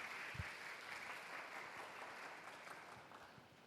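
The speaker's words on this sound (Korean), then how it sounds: "박수로 좀 환영해 주실까요?" Steady, dense applause from a church congregation at a Sunday youth worship service, welcoming a young member being sent off abroad; even and continuous throughout, with no talking.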